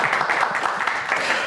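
Studio audience applause on a Belarusian regional evening television show from Gomel, a dense steady wash of many hands clapping, fairly loud and continuous for the full length with no voices over it.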